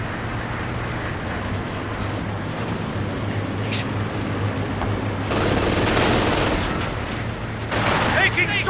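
Soviet troops fire on the player's units in Company of Heroes 2, with steady battlefield gunfire and rumbling bursts under constant combat noise, intensifying toward the end as a voice speaks over it.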